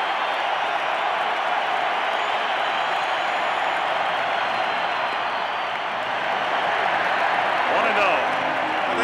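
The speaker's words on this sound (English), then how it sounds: "Crowd trying to coax in the go-ahead run" Roaring, sustained crowd noise at a baseball stadium during Game 6 of the 1987 World Series, Cardinals at Twins, as fans cheer for the go-ahead run; a steady dense wall of cheering that swells slightly near the end.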